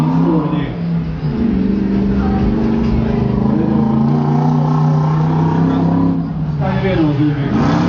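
A BMW drift car idles and revs loudly at the start line of a drift event, a sustained droning engine note that swells and dips, with a voice talking over it.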